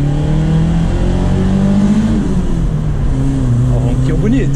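A 1996 VW Quantum GLSi engine revs while driving, heard from inside the car as a loud, steady drone whose pitch rises and falls, with someone talking over it.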